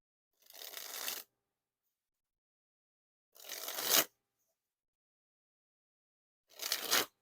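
Three separate, quiet bursts of Desert Tan King Slayer playing cards being dribbled from hand to hand, each a soft, rapid papery flutter under a second long, with silence between them.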